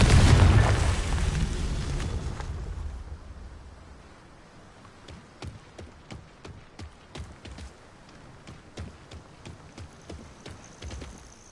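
A loud, booming Confringo spell explosion erupts in Hogwarts Legacy and rumbles away, followed by rhythmic clip-clopping hoofbeats.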